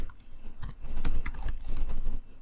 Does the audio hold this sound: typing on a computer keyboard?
yes